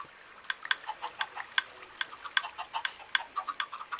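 Water released by a button in a Minecraft redstone chicken farm bubbles steadily, with irregular soft pops and clicks scattered throughout at a moderate level and no voices.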